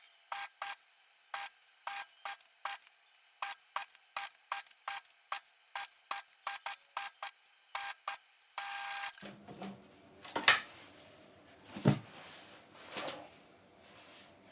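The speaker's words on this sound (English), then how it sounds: "Just going to turn my machine onto 3 for top stitching." A domestic sewing machine top stitches a 1940s-style shirtwaist dress in Liberty floral print fabric, running in a steady series of short, even stitching bursts, then giving way to quieter rustling and handling noises.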